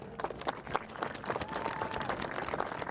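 An audience at a youth football media day claps and applauds in a brief, fairly faint round of dense, scattered claps, with some crowd voices mixed in.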